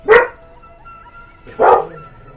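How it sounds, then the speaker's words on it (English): A dog gives two sharp, loud barks about a second and a half apart close by, with a low rumbling growl in between. "my dog is growling in the background"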